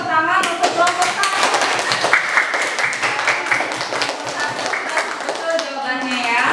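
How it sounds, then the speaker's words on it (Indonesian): Classroom students give a round of applause, with many hands clapping in a dense, steady patter nearby and voices heard among the clapping. "beri tepuk tangan untuk kelompok 1."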